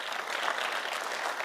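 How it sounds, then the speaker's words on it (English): Audience applause at a sustainability building symposium award presentation, a steady, dense wash of many hands clapping at moderate volume, continuous without breaks. "Applause to Bikes and Rails."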